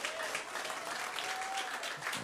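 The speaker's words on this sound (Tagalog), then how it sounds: "Lahat ng excited, pumalakpak ng malakas." A church congregation claps loudly and steadily in a dense burst of applause that carries on throughout.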